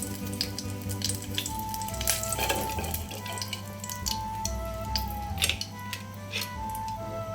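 Onion, tomato, green chilli and curry leaves frying in oil in a pressure cooker, a steady crackling sizzle with scattered pops and a low background hum, no talking.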